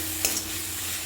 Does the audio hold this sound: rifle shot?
no